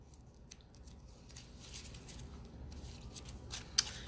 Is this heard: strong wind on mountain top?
no